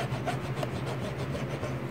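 A wet Q-tip scrubs a Nintendo NES console part with quick, steady rubbing strokes. The close, soft scratching repeats in a brisk rhythm and is heard alone.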